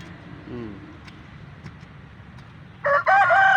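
Near the end a rooster crows loudly, preceded by quiet background with a brief soft cluck; the crow cuts in abruptly and holds.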